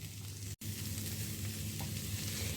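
Tempered mung dal stirred in a pan gives a steady, close sizzle of frying that holds nearly unbroken, with one very brief dropout near the start and no talking.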